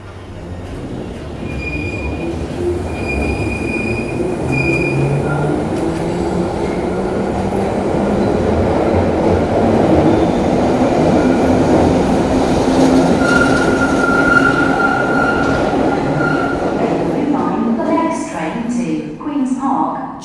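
A London Underground Bakerloo line train pulls out of the station, its loud rumbling roar building with squealing wheels and rail clatter, then fading near the end.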